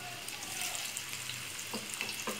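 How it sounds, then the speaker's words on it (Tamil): Cauliflower for Gobi Manchurian deep-frying in a little oil gives a faint, soft sizzling hiss close by, with a few small crackles near the end. "அதிலே நல்லா திருப்பி திருப்பி விட்டு நல்லா டீப் ஃப்ரை பண்ணிக்கோங்க."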